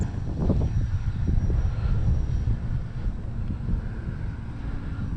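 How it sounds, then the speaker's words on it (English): An electric Parkzone T28B Trojan RC model warbird flies outdoors on a windy day, its motor drone steady and moderately close, mixed with heavy wind rumble buffeting the microphone throughout. "Going to take up Parkzone T28B Trojan."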